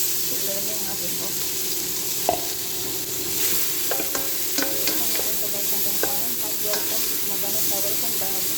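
Onion, garlic and ginger sizzle in hot oil while being stirred. Close, steady frying hiss is punctuated by scattered clicks and scrapes of the utensil against the pan.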